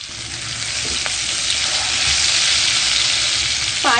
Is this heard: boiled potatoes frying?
yes